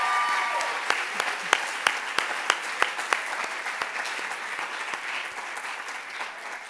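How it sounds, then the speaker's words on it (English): Delegates in a hall at a Model United Nations closing ceremony applaud their advisors, a sustained round of clapping with a few sharp, close claps that stand out in a fairly regular beat before the sound gradually thins out. "So I really think the advisors deserve a round of applause."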